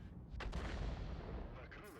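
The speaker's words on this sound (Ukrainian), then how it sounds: "Дивіться, перший постріл" A tank's main gun fires once in a World of Tanks-style game, a sharp booming shot with a rumbling tail that stays loud for the rest of the moment, ending with a brief bright hiss.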